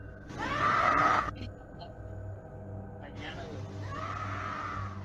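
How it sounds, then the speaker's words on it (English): A woman screams at night near a nightclub, two long distressed vocal bursts separated by a short gap, fairly loud against a steady low background hum. "You can hear a woman scream."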